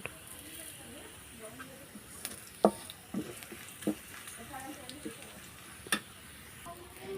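Soft sizzling of cumin seeds and five-spice frying in oil, punctuated by a few sharp taps and scrapes of a spoon against the pan.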